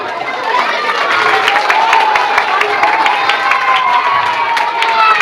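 Audience cheering and applauding for a group of children at a school anti-bullying session, a steady crowd roar with claps and children's shouts sustained throughout.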